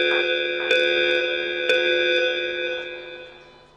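An alarm bell clangs in a stage production of Macbeth, struck a few times, each hit ringing out in bright, sustained metallic tones that slowly decay.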